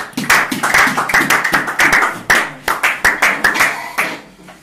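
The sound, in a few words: church congregation clapping in acclamation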